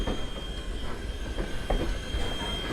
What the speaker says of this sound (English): She's chuffing.